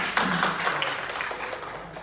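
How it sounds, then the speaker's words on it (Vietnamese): An audience at a Vietnamese parenting seminar gives a short burst of applause, a dense, moderate patter of clapping that stays steady and fades slightly. "xin các anh chị cho một tràng vỗ tay ạ"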